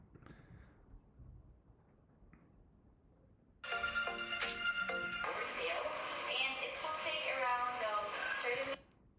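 A phone rings during a recorded call to a service centre's call centre, a bright, steady electronic tone that starts suddenly and holds for about five seconds over a quiet line before cutting off.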